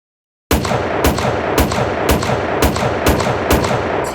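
Loud gunshots crack out in a steady rhythm, about seven evenly spaced blasts with reverberant tails, starting abruptly after a moment of silence.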